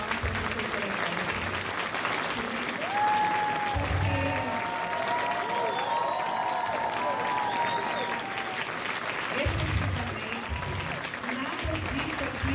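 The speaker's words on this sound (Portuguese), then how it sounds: "queria pedir uma salva de palmas para a professora Beth" Sustained applause from an audience at a solemn ceremony honoring Professor Beth at the institute's 80th anniversary session, steady clapping filling the room for the whole stretch.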